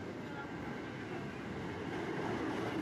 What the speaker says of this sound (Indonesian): kita lihat di ujung sana sudah KRL sudah tiba